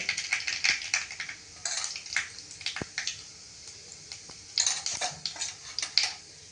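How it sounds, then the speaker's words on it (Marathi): Mustard seeds popping and crackling in hot oil for a tadka, soft irregular sputters and crisp pops in uneven bursts, close and fairly quiet. "मोहरी चांगली तडतडली की गॅस बारीक करते आहे"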